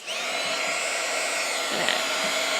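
A heat tool blows steadily on embossing powder on a mixed-media steampunk craft tag, melting it shiny; a continuous close, loud airy whir holds throughout with no talking.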